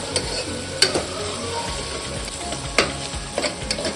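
Onions fry in a pan with a constant sizzle while they turn light brown for an Andhra-style tomato mutton curry. Several sharp stirring scrapes stand out, around one second and again near three seconds. No one speaks.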